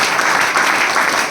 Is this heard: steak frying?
no